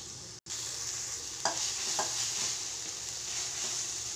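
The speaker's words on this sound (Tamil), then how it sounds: "இஞ்சி பூண்டு ஸ்மெல் போகிற வரைக்கும் நல்லா வதக்கி விட்டுக்கலாம்." Ginger-garlic paste sautéing in a pan for homemade noodles, a steady close sizzle with a couple of brief stirring scrapes, no talking.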